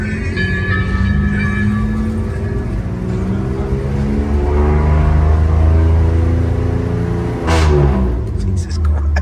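A car engine at a large car show revs loudly and close by in a sustained roar, with the pitch rising and falling and a sharp crackle near the end. People talk over it.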